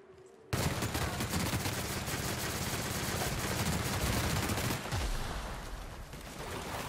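Loud, dense gunfire from weapons in The Outer Worlds erupts suddenly and rattles on continuously in rapid bursts, against a fight with a raptidon colossus, with no talking.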